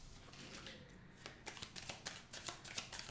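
Tarot cards being shuffled before laying out a 13-card spread, a soft, steady riffling that grows into a run of rapid, close flutters and slaps in the second half.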